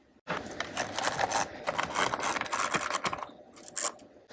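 A 10mm socket turning a nut on a 2022-2023 CF Moto during a turn signal kit install, heard as a close, continuous gritty ratcheting and scraping that starts abruptly and runs for about three seconds before easing off.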